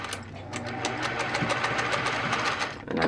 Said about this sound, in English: I'm definitely locking that zigzag stitch whenever I get to the end